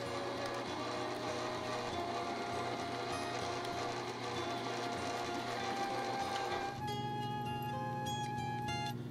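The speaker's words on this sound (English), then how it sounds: "and then off to the drill press." Steady mechanical whir of a drill press drilling metal pieces for tongs, continuous and close, its tone shifting partway through as the cut changes.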